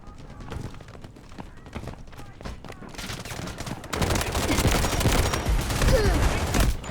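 Rapid bursts of automatic fire from a modified QCQ weapon in the Delta Force shooter game, starting as scattered cracks and swelling into a dense, louder barrage over the last few seconds amid battlefield noise.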